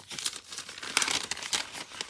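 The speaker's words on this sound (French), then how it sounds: "Désolée pour le bruit de papier." Paper crinkles and crumples in quick, uneven bursts close up while scrapbook labels from an advent calendar are handled, with no one speaking.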